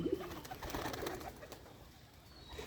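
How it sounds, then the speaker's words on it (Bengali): Pigeons coo softly in low, murmuring bursts, faint and somewhat distant against a quiet background. "দেখুন অনেক সুন্দর একটা কবুতর"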